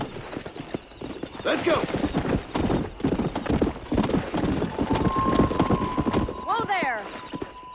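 Hooves clip-clop at a gallop in a Red Dead Redemption ride, with a horse whinnying near the end and voices calling out over the rhythmic pounding.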